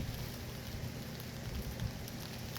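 Steady rain falls outdoors in a Georgia garden, a continuous soft hiss of drops with no talking, even and moderately close throughout.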